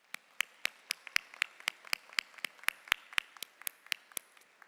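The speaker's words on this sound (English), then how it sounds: "Let's give her a round of applause." A single person claps at a law school commencement ceremony, a dozen or so sharp, fairly quiet slaps at a steady pace, with no crowd joining in.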